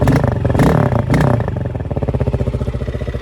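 A Spark SP300 T6 motorcycle engine, already warmed up, runs loud and close: an opening throttle blip, then a steady rapid idle thump with a faint mechanical clatter, and no voices.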